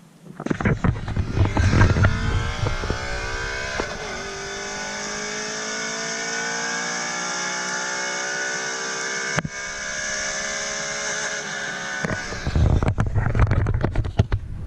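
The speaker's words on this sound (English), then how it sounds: "Right at 130, as you can hear, it bounces off the rev limiter" A car pulls hard in third gear from 60 to 130 km/h after new axles are fitted, engine note climbing steadily and loud until it bounces off the rev limiter, then the revs drop away and pick up again.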